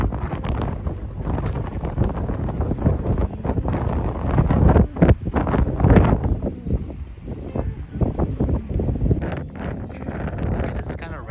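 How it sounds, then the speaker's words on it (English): Strong wind gusts roar across a snowy landscape near a parked first-generation Toyota RAV4, buffeting the microphone in loud, continuous rushes that swell and ease with some voices mixed in. "Look at that wind."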